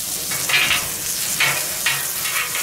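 Meat sizzles on a hot fire griddle plate at an outdoor barbecue, with a steady frying hiss and a few short, louder bursts as pieces are pressed or turned. No one talks.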